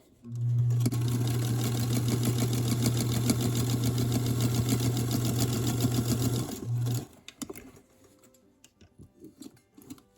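A sewing machine stitching fabric runs in one continuous steady burst of rapid mechanical whirring for about six seconds, then stops abruptly, leaving quiet handling noises.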